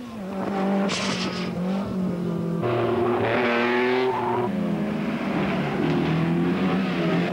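Classic Italian race cars from the 1950s to 1980s, including Lancia Aurelia and Delta S4 models, on the Balocco track: loud engines rev and climb through the gears with tire squeal as cars pass close by.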